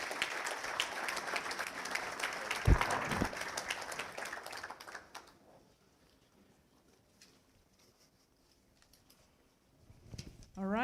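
An audience at a national signing day event for electric power and distribution students breaks into clapping that lasts about five seconds and then stops, leaving a quiet stretch before a brief voice and rising noise at the end.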